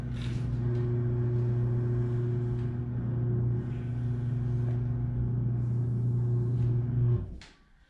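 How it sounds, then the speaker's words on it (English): A motorized garage door runs with a steady low mechanical hum and rumble for about seven seconds, then cuts off abruptly, leaving near quiet. "That's the garage door opening."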